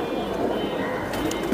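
Soft cooing from an old-breed Bagha female pigeon runs steadily through the moment, close and continuous, with a low murmur of other pigeons and a faint brief voice in the background.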